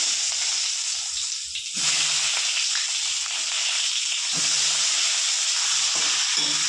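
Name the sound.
eggplant frying in oil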